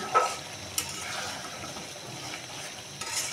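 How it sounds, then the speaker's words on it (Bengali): A potato and fish curry is sautéed and stirred in a pan, with a soft steady sizzle broken by several sharp scraping strokes of a spatula at irregular intervals and no talking. "দেখুন আমি তরকারিটা কষাই নিতেছি।"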